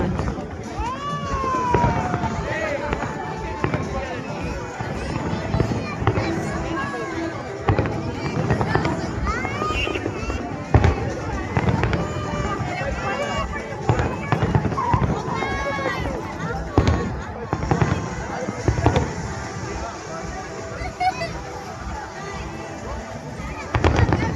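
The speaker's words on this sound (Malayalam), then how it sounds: "അടുത്ത വെടിക്കെട്ടിൻ്റെ ടൈമായേ" New Year fireworks at Global Village go off continuously, with repeated sharp bangs and crackling bursts over a busy crowd. People talk and cheer nearby throughout.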